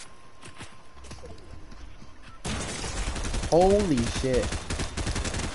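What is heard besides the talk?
gunshots in the video game Fortnite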